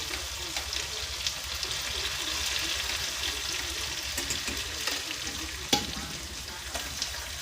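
Onion fries in a pan with garlic and green chillies, a continuous moderate sizzle and crackle punctuated by scraping stirs and a sharp utensil tap near the end.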